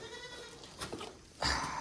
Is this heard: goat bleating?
yes